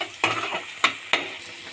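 Onions sautéing in a pan for chicken fry, with three crisp stirring scrapes over a continuous close sizzle.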